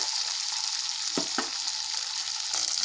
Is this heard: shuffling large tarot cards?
no